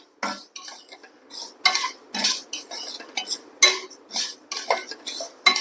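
Black urad dal and chana dal are dry-roasted in a pan without oil for curry leaf idli podi, with a spoon scraping and stirring. About a dozen crisp, rhythmic scratching strokes sound close and clear, with no talking.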